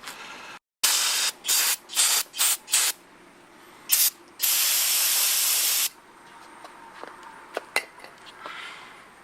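Brake cleaner sprayed onto the engine of a 1993 Ford Fox-body, several short loud hissing bursts followed by one long sustained blast, then quieter clinks and rattles of tools nearby.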